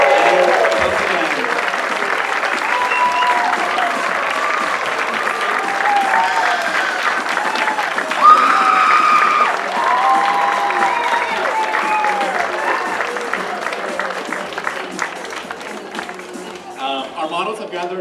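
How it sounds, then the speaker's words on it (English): Sustained audience applause for the models at the Anderson Valley Variety Show, a dense, steady wash of clapping from a crowd lasting throughout, with a few brief louder bursts and faint voices mixed in. "Would you please give them another round of applause?"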